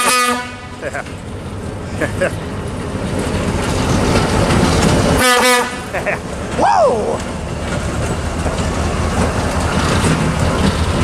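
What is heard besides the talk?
Southern Pacific switcher locomotive number 1006 moving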